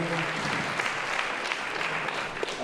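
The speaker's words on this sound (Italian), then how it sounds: "Chiamerei qua con me Antonio Campa, un applauso ancora al regista" Applause for the director after a local theatre performance: a thick, continuous clapping from the audience, steady and close throughout the short span with no break.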